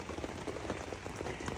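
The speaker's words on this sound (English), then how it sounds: "I know it's so hot in here, but it's raining." Steady rain falls outside, a dense, even patter of drops on a hard surface that continues without pause, fairly quiet and with no voices.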